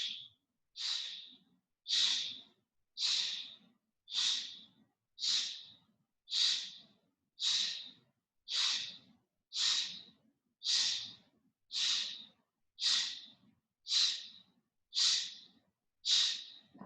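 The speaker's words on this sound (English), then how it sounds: "start to get a little bit quieter from your shushing sound." During a gentle yoga twist, a person makes a long run of close, soft shushing exhalations, about sixteen breathy hisses at an even pace with short pauses between them.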